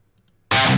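A burst of heavily distorted metal guitar from a song starts abruptly after a near-silent moment, bright and loud with a metallic high end, cut off within a fraction of a second.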